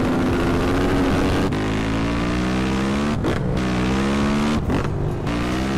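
Motorcycle engine in GTA San Andreas, ridden without a license plate and with a heavily modified rear end, droning steadily and loudly with shifting revs and brief dips as it changes pitch, with no talking.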